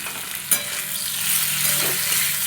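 Potatoes with chopped green chilli and a little Kashmiri chilli powder stir-fried in a pan, giving a steady sizzle with a sharp scrape of the spoon near the start and continued frying noise, no voice.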